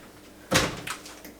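A door swings open indoors in a home kitchen setting, giving one fairly loud thud-like creak and a short rattle of the latch, with a fainter knock after it and no talking.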